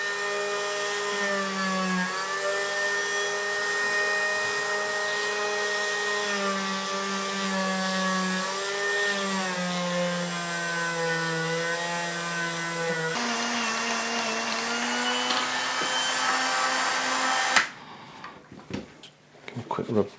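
A power tool buffs the frets of a Fender Jazz Bass with a steady, close motor whine that shifts pitch slightly, then cuts off into a few clattering handling sounds.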